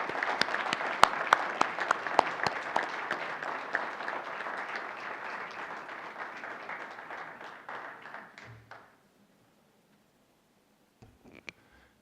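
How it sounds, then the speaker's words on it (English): Attendees at a school district board meeting applaud steadily for about eight seconds, a dense patter of claps that fades abruptly into silence, followed by a few faint handling sounds. "Let's give another nice round of applause here."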